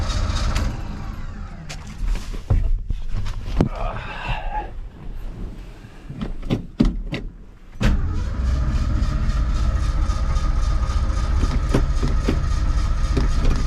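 A 1982 Ford F-150 with a 302 V8 runs rough and uneven close by, stumbling through dips and sharp pops before settling into a loud, steady idle for the last several seconds.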